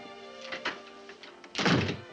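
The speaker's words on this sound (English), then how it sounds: "why don't you shut the door?" A door is shut in an interior, giving one solid, close thump after some quieter knocks and handling noises; no one speaks.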